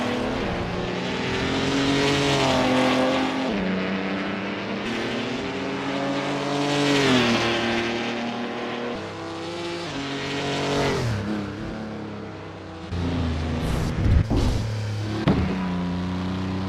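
The engine of a historic race car in Assetto Corsa, on the Halle-Saale-Schleife track, revs loud and close. It rises and falls through repeated gear changes as the car rolls out on its out lap, with brief tyre noise near the end.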